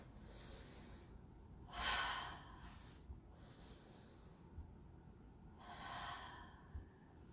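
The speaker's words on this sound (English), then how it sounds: "Take a couple deep breaths." Deep breaths during a karate workout, slow breathing with two strong, close inhale-exhale cycles and a softer breath between them against a quiet room.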